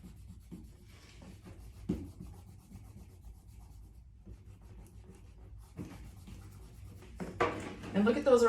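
An eraser rubbing out the interior of a pencil figure drawing on paper, soft close scrubbing strokes in short bursts with pauses, and a voice speaking near the end.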